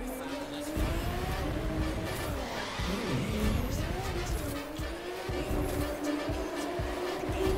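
Car drifting with tires skidding in the racing game The Crew 2: a steady engine drone with a sliding, squealing tone that rises and bends across the clip, continuous and fairly loud, with a voice briefly over it.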